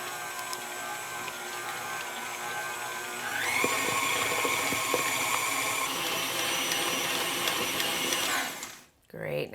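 A blender runs steadily on vegan gluten-free pumpkin spice donut batter, its motor whine stepping up to a higher, louder speed partway through and then cutting off near the end.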